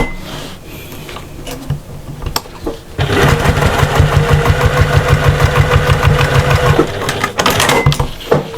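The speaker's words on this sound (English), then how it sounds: "And then we're going to top stitch just like we did before." A sewing machine top-stitches a fabric cross-body bag, running in a fast, even mechanical whir for several seconds, with quieter handling noise before and after.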